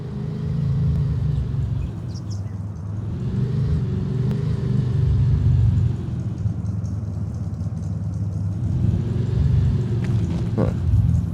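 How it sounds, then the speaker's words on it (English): A car pulls up in the Farming Simulator 25 farm game, a steady low engine rumble running close and loud throughout, idling without clear pauses. "Ah, that's a nice car."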